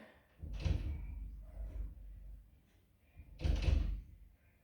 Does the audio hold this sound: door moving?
yes